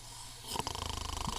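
A person imitates snoring with the voice, a quick run of rhythmic pulsing snorts after a brief quiet start, close and moderately loud.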